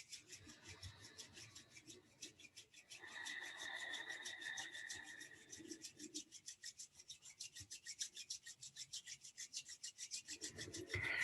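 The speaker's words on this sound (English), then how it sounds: "bring the soles, the bottoms of your feet together and rub them against each other and rub the palms of your hands against each other" Soles of the feet and palms of the hands rubbing against each other during a kundalini yoga practice, a quiet, rapid, rhythmic swishing friction that continues steadily throughout, close and soft, with no talking.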